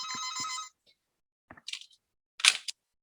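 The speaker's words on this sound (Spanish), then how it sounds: "no había desconectado el teléfono antes" A telephone rings for under a second in a quiet room during a lecture, the trill loud and close, followed by a few faint clicks and rustles as the phone is handled.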